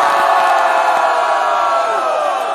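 A roaring audience at a rap battle cheers and yells in one sustained burst, loud and steady throughout, with shouted voices mixed into the din.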